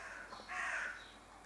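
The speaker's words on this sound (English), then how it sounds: "excuse me crows" Crows cawing outdoors: a single faint, distant harsh caw rising briefly over background noise, with no talk.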